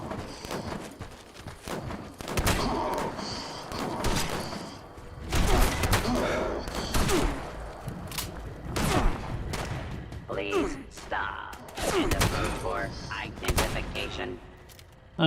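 Shotgun firing in Fallout 76: a series of heavy, booming blasts spaced several seconds apart, loud and close, with other game sounds in between.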